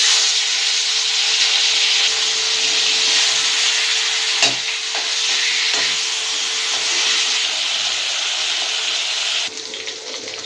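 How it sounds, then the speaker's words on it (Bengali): Pomfret fish frying in hot mustard oil in a wok, a loud continuous hissing sizzle with a few sharp spatters and pops, no voices, the noise dropping slightly near the end. "এবার মাছগুলোকে আমরা ভেজে নেব।"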